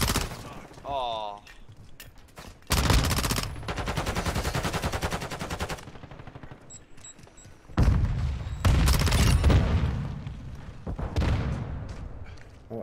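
Bursts of AK-74U automatic fire in the shooter Modern Warfare 2 come as two long, rapid volleys separated by quieter gaps, loud and close, with a voice talking between them.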